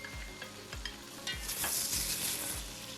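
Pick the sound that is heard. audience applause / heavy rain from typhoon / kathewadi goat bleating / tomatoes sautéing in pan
tomatoes sautéing in pan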